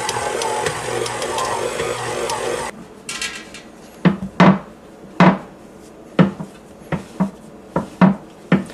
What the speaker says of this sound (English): I am kneading the dough and getting the consistency right to make a good pizza pie.